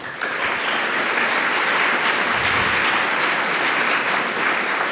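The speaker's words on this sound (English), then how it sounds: "Give another round of applause," Sustained, dense applause from a conference audience at a programming talk, loud and even throughout with no gaps, filling the whole stretch without speech.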